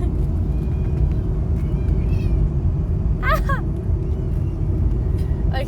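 Cat meowing indoors amid a household scuffle between cats and dogs, a short rising meow standing out near the middle over a steady low rumble, with fainter cries around it.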